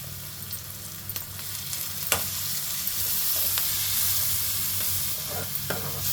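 Curry leaves sizzle and crackle in hot oil for a mushroom curry, a steady frying hiss with scattered sharp pops, close and alone without speech.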